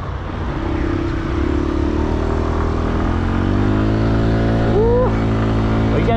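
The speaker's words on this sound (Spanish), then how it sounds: "Vamos a arrancarla, vamos a ver cómo nos va con esas primeras impresiones." Aprilia SXR 160 scooter engine, a low-mileage bike, running close up with a steady idle drone, then revving with rising and falling pitch before settling back.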